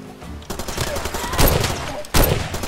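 Gunfire in Far Cry 2, with bursts of shots and sharp cracks, the loudest onset coming about two seconds in over a busy game ambience.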